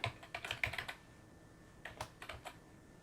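Keys pressed on an iMac G3 keyboard during a refurbishment, giving a quick burst of light clicks, then a pause and a few more scattered taps, close and quiet with no talking.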